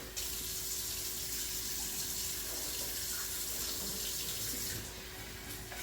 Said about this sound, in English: I'm going to rinse it just a couple more times here